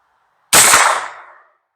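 An Anderson AM-9 9mm carbine fires one sharp, loud report on a 50-yard range. A ringing decay trails off over about a second before silence returns.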